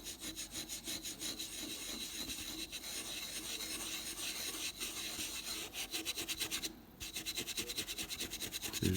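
A 5-centime Napoleon III coin is rubbed lightly in circles during restoration, producing soft, quiet, rhythmic scratchy strokes that repeat steadily with a brief pause near the end.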